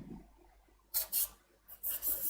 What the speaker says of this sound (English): just use a little bit of sandpaper, just because the texturing does actually leave a few split ends